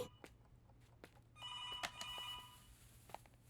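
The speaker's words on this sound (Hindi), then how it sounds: "Maithili, call for you." A telephone rings in one long electronic trill partway through, fairly quiet in a still room, with faint knocks and movement before and after.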